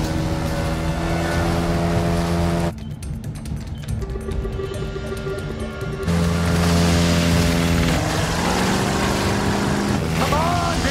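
Hovercraft engine running loud and close, a droning roar with strong tonal hum, briefly dropping to a rushing lighter noise before surging back, with wind and water.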